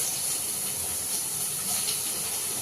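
Cut potatoes dropped into hot oil hiss and sizzle steadily at a close, even level throughout, with no talk over the frying.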